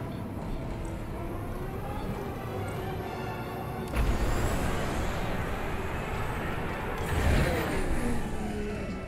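Starfighter engine boost in the Star Wars: Squadrons video game, a continuous rumbling engine roar that surges louder around the middle and swells again near the end, heard alone without talk.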